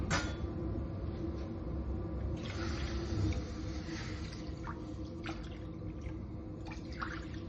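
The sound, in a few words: water being poured into a pan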